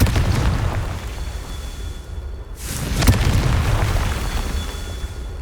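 Confringo and Bombarda spell blasts from Hogwarts Legacy, a dense run of booming explosions with a sharp burst near the middle, loud and close, with no talk.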